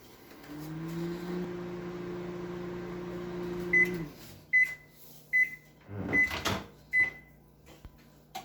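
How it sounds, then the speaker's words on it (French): A microwave oven heating oatmeal hums steadily for a few seconds, then stops, followed by a run of sharp completion beeps and the clunk of the door opening. "Voilà l'étape du micro-ondes. On met le gruyot directement, puis on fait cuire 2 minutes pour commencer."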